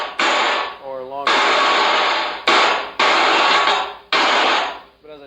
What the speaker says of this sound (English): The claptrap is fake clapping.